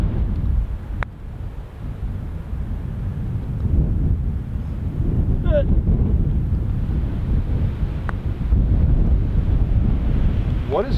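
Strong, steady wind buffets the microphone on a cold golf course, a loud continuous rumbling roar that runs throughout with no talking.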